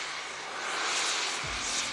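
Three jets at an air show passing low from right to left, a loud, steady broadband roar that swells slightly as they go by.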